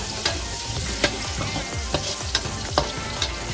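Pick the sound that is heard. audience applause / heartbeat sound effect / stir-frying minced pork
stir-frying minced pork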